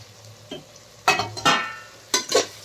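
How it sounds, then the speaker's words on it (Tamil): Mint and coriander leaves being stirred and sautéed in a pan for soya bean biryani, giving a few short scraping stir bursts over a faint sizzle, close and fairly quiet. "ஆட் பண்ணி நல்லா மிக்ஸ் பண்ணி விட்டுக்கலாம் கொஞ்சம் நல்லா வதங்கட்டும்"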